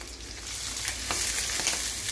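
Pork fat sizzles and crackles in a pan as it renders into oil, a close, continuous hiss with scattered pops and a brief stirring scrape.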